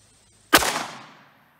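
A single sharp 9mm pistol shot from a Taurus GX4 firing cheap hollow points, a loud close crack with a short fading echo tail.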